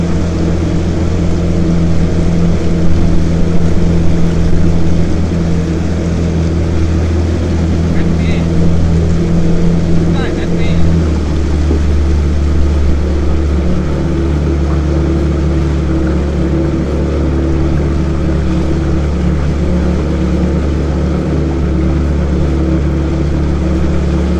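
A motorboat engine drones loud and close throughout as the boat passes under the Pak Meng bridge at sea off Trang, with a steady hum and some wind and water noise.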